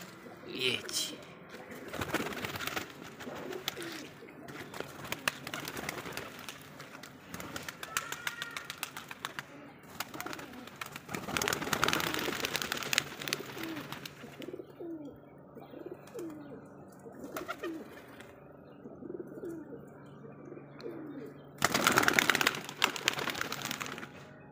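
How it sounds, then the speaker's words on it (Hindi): Pigeons let out of their enclosure in the rain coo and flutter close by amid scattered chirps, with people talking intermittently and occasional handling noises. "तो ये कबूतर बाहर आ गए हैं।"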